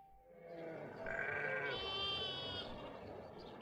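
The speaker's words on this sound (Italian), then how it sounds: "stare a guardare le pecore che brucavano l'erba dal mattino alla sera" Sheep bleat in a flock grazing on grass near a village, several overlapping wavering cries at different pitches over a steady outdoor background, fairly close and clear with no talking.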